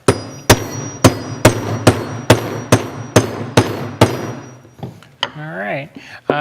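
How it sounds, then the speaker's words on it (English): Evenly spaced sharp blows of a steel-headed hardware hammer on metal, about eight ringing strikes in a steady rhythm, close and loud, followed by a brief voice. "So I'm going to use this big kind of hardware hammer."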